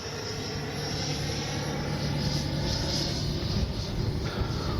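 A 90mm FMS Avanti S electric ducted-fan RC jet flies past with its landing gear lowered, giving a loud, steady whooshing roar that holds throughout with no talk.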